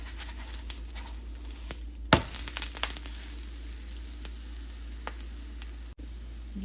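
Cabbage and carrot thalipeeth sizzling in oil on a pan, a steady soft frying hiss with light crackles and a brief louder burst of spatter as it is turned, close and alone.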